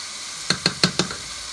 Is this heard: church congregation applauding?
no